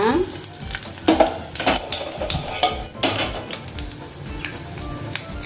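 Mustard seeds, dried red chillies and cumin sizzle in hot oil with garlic for an Andhra-style mango onion pickle, a loud close crackling with rapid popping bursts and a few utensil clinks.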